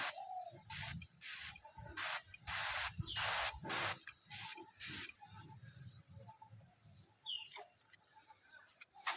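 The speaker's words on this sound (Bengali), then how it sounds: "এটা কিন্তু একেবারে জলীয় বাষ্পার মতো হয়ে স্প্রে হচ্ছে" A spray machine blasts fine water mist in a run of sharp, loud hissing bursts, each about half a second long, then sprays more softly near the end; the setting is outdoors among eggplant seedlings.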